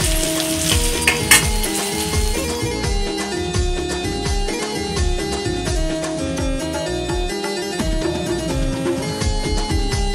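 Bombil fish sizzling in hot oil, a dense continuous frying hiss with crackles and clinks of utensils, loud and steady throughout with no talk.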